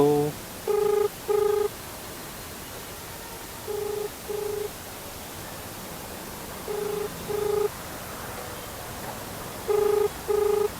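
A telephone ringback tone on an unanswered call repeats in paired electronic rings, four times at a slow, even pace, over faint background hiss.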